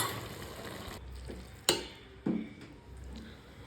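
A mixture with market-bought mawa is stirred in a pan, a low scraping hiss broken by two sharp clacks of the spoon against the vessel, with no talking.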